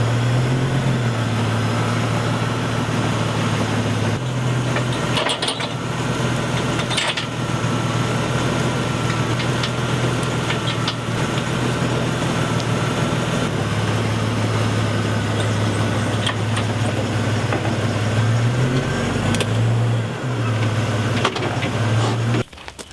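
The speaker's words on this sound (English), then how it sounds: "First I'm going to drive up, touch my tires to these front chocks" A car idles and creeps forward onto a trailer toward the front chocks, its engine a steady close low hum with slight rises and dips in pitch as it moves.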